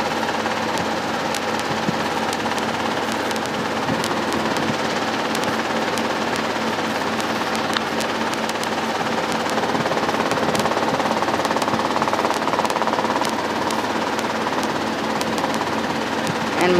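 Helicopter in flight over Portsmouth, New Hampshire, heard from inside the cabin as a loud, continuous rotor thump and engine drone with a rapid chopping rhythm throughout, while someone talks over it.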